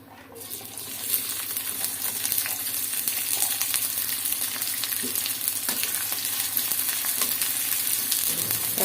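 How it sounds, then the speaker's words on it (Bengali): Sliced onions and green chillies sizzle in hot oil in a wok, a steady bright crackle with occasional stirring scrapes, rising after a quiet start and staying close and continuous. "পেঁয়াজ কাঁচামরিচ অল্প একটু সময় ভাজাভুজি করে নিলাম।"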